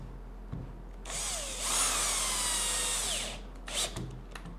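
An electric screwdriver set to its lowest torque and speed drives screws while a compact router table is assembled: a whirring motor whine of about two seconds rises and holds, then cuts out, followed by a brief second burst.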